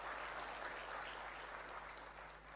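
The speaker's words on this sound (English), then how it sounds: "A huge round of applause to them." Audience at a graduation ceremony for an advanced management programme applauding the graduates' families, a steady, fairly faint wash of many hands clapping that tapers slightly at the end.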